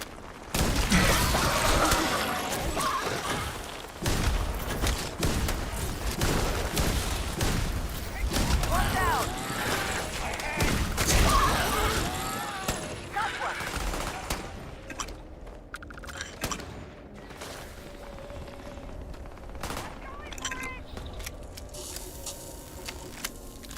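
Rapid, dense bursts of video game gunfire and booms fire at aliens during a livestream. The shooting is loud and continuous at first and thins out later, mixed with other game sounds.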